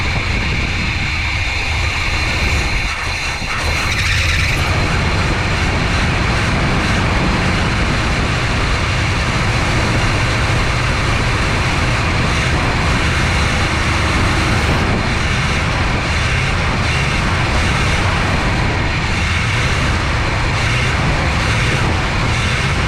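A 1985 GMC C25 pickup with a 454 7.4L V8 and Turbo 400 transmission runs at a loud, constant rumbling idle, a dense engine roar close by with a brief dip early on, no voices.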